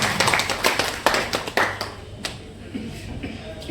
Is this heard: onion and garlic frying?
no